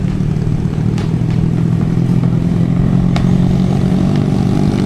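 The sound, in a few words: overloaded motorcycles passing by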